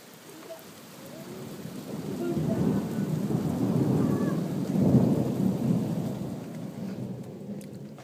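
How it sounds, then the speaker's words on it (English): A thunderstorm with heavy rain: steady rainfall hiss under a long, deep rolling rumble of thunder that swells in the middle and fades toward the end, with no speech. "we're going to see the great thunder and lightning."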